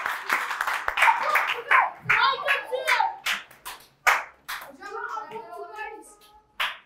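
Children in a classroom clap their hands in loose, uneven bursts, close and loud, with kids' voices and chatter mixed in throughout.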